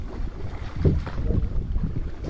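A motor boat on the lake at Gölyazı, Bursa, being shifted into reverse gear gives a low, rumbling churn with gusty wind buffeting the microphone, fairly loud and close, with no voices.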